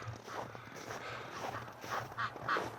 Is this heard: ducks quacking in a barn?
yes